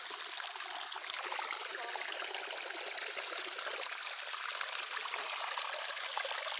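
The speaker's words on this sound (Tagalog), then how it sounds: "Sapa, agos." A stream flows with a continuous, even rushing and babbling hiss, close by and steady throughout, no voices over it.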